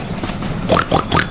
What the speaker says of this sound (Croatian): Svinja.